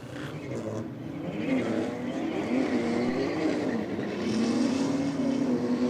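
Drag racing cars, an Audi against a BMW, roar down the strip with a rising, wavering engine note that climbs and holds, moderately loud at some distance.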